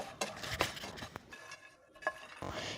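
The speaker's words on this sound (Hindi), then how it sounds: "अब जो घी पैन में बचा है, उसी में हम मखानों को भी अच्छे से भून लेंगे।" Fox nuts (makhana) being roasted in leftover ghee in a pan, heard as clattering stirs and scrapes of a spoon against the pan with light rustling of the puffed seeds and a faint sizzle between strokes.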